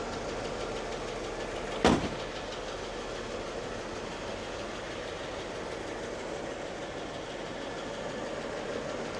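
A classic car's 462 cubic inch, 7.6 liter big block engine idles steadily and loudly close by, with a single sharp knock near the start and no talking.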